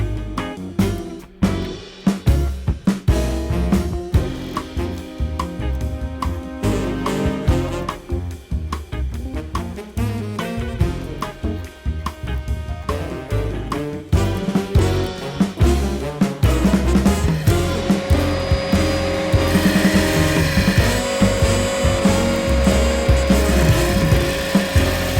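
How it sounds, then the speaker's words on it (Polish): Disc sander grinding flat the surface of a copper-damascus gyuto knife blade, a steady coarse abrasive rasp with shifting pressure, loud and continuous throughout with no talk. "Więc przejdziemy na szlifierkę talerzową i wszystko sobie to wyrównamy, żeby to faktycznie było wszystko równe."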